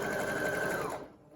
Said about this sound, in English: Back stitch, tack it down